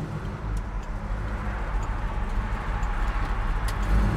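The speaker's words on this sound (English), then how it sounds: "car has a real nice idle to it." A 1967 Chevrolet Chevelle SS idles smoothly, a low, even, close rumble with a steady rhythmic lope and no stalling.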